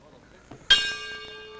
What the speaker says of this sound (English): And there's the bell, and we're underway as Coloso Colosetti meets Henry Garcia.